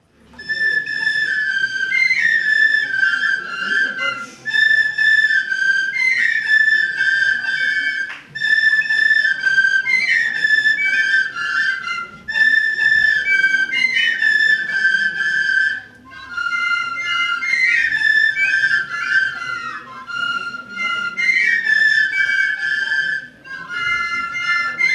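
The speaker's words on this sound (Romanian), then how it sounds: "invităm în scenă grupul de fluieraș al comunei Brăgotești" A Romanian village fluier flute ensemble plays on a folk festival stage, bright shrill whistle-like melodic phrases in repeated sections with short pauses between them, loud and close.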